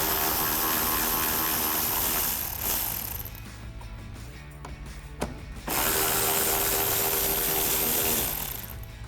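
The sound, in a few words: removing 7mm trim screws with a socket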